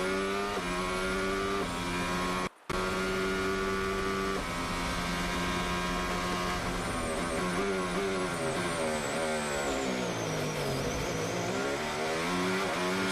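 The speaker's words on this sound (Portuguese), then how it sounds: "Som do motor da Red Bull." A high-revving Red Bull Formula 1 car engine screams continuously, its pitch sweeping up and down through gear changes, loud and close with a brief dropout early on.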